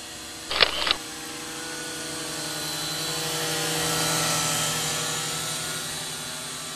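A steady, high-pitched buzzing whir of a Syma X8W toy quadcopter hovering nearby, swelling slightly as it climbs, with a brief clatter near the start.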